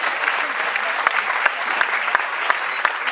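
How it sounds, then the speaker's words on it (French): Audience applause at a youth artists' magic show, steady dense clapping from a crowd that carries on evenly throughout with a few sharper claps poking out. "on peut applaudir."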